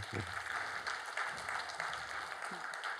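A church congregation claps to welcome a teacher to the stage during a worship service, soft and somewhat distant applause with a faint low voice or murmur underneath.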